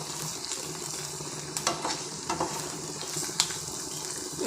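Ginger garlic paste sautés in a pan with a soft continuous sizzle while a spoon stirs it, and a few light scrapes and clinks stand out now and then.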